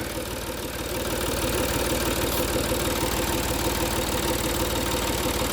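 A Range Rover L322 engine runs roughly at idle, a close, loud, steady low throb with an uneven knocking pulse, continuous throughout with no talk.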